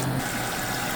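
Soda water dispensing from a soda fountain valve gives a steady, close, hissing gush of fizzy liquid, continuous and fairly loud throughout.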